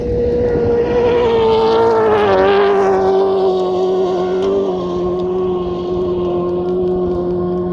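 Race cars roar past on a dirt track, a loud engine whine rising and falling in pitch as they pass, then fading into a steady drone at a distance.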